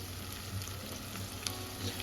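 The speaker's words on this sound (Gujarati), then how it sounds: "અને એને પણ આપણે 2 થી 3 મિનિટ માટે સાંતળી લઈશું" Tomato puree sautéing with onions in a pan over a high flame for a Gujarati gunda vegetable dish hisses in a dense, continuous sizzle, close and steady throughout, with no talking.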